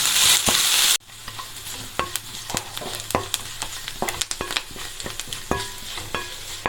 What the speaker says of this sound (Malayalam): അരിഞ്ഞു വെച്ചിരിക്കുന്ന സവോള ഇട്ട് കൊടുക്കാം. നന്നായിട്ട് നമുക്കിതൊന്ന് വഴറ്റിയെടുക്കാം.